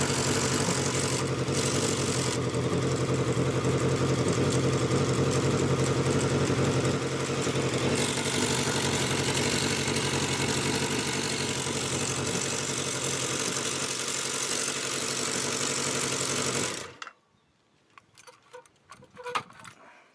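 A 1983 Honda CB650SC motorcycle engine idles steadily and close during a carburetor sync, a loud even mechanical drone with ticking texture that cuts out abruptly near the end, leaving quieter clicks and handling noise.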